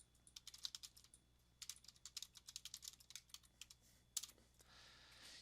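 Quiet, fast typing on a computer keyboard comes in irregular bursts of close key clicks, with a louder keystroke near the end.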